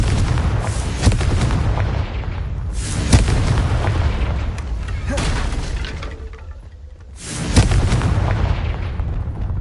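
Repeated booming spell blasts of Confringo in the Hogwarts Legacy video game, several heavy broadband bursts in succession with crackling debris, loud and close, with a brief lull before another burst.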